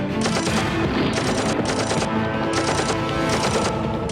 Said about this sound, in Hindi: दोनों तरफ से काफी देर तक फायरिंग होती रही।